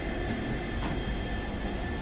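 Steady rumble of the Sairang Rajdhani Express hauled by a WDP 4D diesel locomotive near Siliguri, a continuous close rolling roar with faint metallic hiss, no voices.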